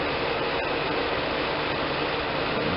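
A Hinder tractor loading a log at an outdoor sawmill runs with a steady, unbroken engine rumble and broad noise throughout, close and constant.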